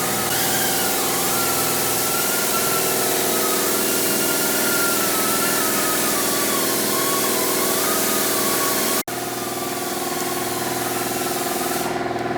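A running small-block Chevrolet V8 engine holds a steady mid-pitched drone with a rough, pulsing undertone, briefly interrupted near the end before continuing.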